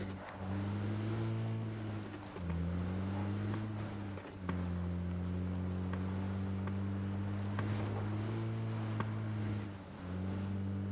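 A vehicle engine in PUBG drones steadily at close range, its pitch dipping and rising as gears shift at roughly two-second intervals, with faint wind noise underneath.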